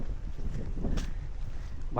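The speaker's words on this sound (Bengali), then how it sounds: "বাতাসের শোষ শব্দ পাগল করে ফেলাইতেছে রে।" Wind whooshes across a lake among tea gardens in Sreemangal, a steady low buffeting rumble pressing on the microphone throughout, close and fairly loud.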